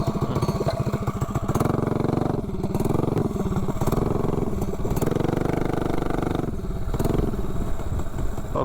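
A mini bike engine fitted with a ram air intake revs and pulls hard from a standstill to about 30 mph, a loud, buzzing, raspy drone that rises in pitch through the run, with brief dips between surges, close and continuous.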